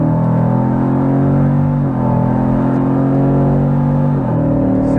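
Jeep Wrangler with its 3.6 engine under full throttle, a steady, loud, close rumbling drone whose pitch climbs, dips briefly at each shift near the two- and four-second marks, then rises again, with no talk.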